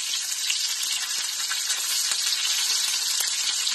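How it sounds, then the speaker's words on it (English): Fish fries in a skillet, giving a steady, close, bright sizzle with faint crackles and pops throughout and no talking. "I'm going to take and squirt some lemon juice on top of it and let it fry and brown on the other side"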